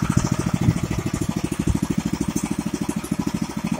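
A Zubr 7 hp motor cultivator engine runs steadily nearby, a loud, rapid, even chugging pulse that holds a constant rhythm throughout.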